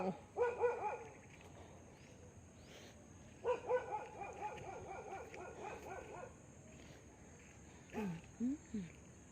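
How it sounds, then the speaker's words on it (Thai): A dog barks outdoors in three bursts of rapid yapping, moderately distant, over a steady chirring of insects, with no talk. "โอ้ย หมาเห่า"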